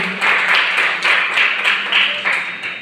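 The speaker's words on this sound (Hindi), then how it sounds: "बजा दीजिए ताली" Close, loud audience clapping at a poetry recital in an engineering college hall in Raipur, rhythmic bursts of hand claps pulsing in waves for a few seconds with no talking over them.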